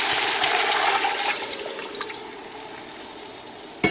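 Liquid pours into a hot frying pan of fried pork for griot with a loud rushing, sizzling hiss that slowly fades over a few seconds, ending in a sharp clunk.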